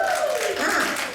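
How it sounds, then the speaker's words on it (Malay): Audience applause at a Malaysian fashion show, a steady wash of clapping across the clip while a host's voice talks over it. "Beri tepukan pada Meza."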